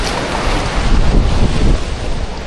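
Strong ocean waves surge on a seashore, a loud, continuous roar of rushing surf mixed with gusty wind buffeting the microphone, with no voices.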